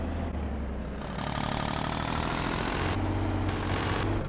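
A tractor engine idles in Farming Simulator 22, a continuous, fairly loud, rough low drone with a slight shift in tone partway through, heard alone.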